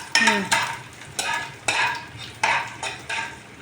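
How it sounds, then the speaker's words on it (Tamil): Something sautés in a pan for a cumin curry, heard as a low sizzle broken by four or five sharp stirring scrapes and clinks of a spatula at a close, uneven rhythm. "கொஞ்சம் லைட்டாக கலர் திரும்புகிற வரைக்கும் அப்படியே வதக்கணும்"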